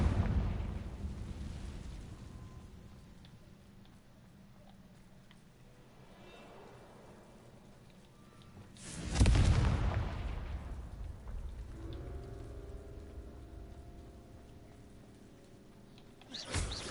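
Fire spell explosion in the Hogwarts Legacy video game: a single loud, deep burst lands mid-clip over a low rumbling game ambience, then trails off into a ringing, fading tail.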